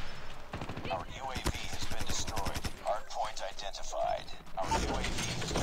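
Rapid bursts of PP-19 submachine gun hip-fire in a Call of Duty match ring out loud and close, a fast stuttering rattle that breaks into short strings of shots, with a player talking over the game audio.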